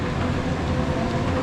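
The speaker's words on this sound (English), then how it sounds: "At least the monorail's going." The Hersheypark monorail rolls past with a steady, dense rumble and rail noise, fairly loud and unbroken throughout, with no talking.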